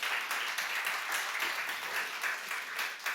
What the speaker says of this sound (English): give Thomas an applause